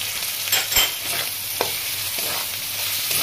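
Chili and cumin powder frying in a pan for chicken keema, soft sizzling under a few scraping stirs of the spoon, quiet and close.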